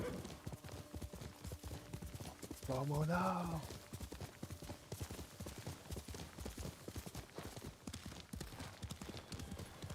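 Horse hooves clip-clop in a steady, rapid gallop rhythm in a video game, with a loud whinny rising midway and a voice speaking briefly over the hoofbeats.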